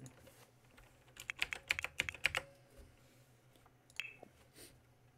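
Typing on a computer keyboard, a quick burst of close, crisp key clicks followed by a few scattered taps against a quiet background.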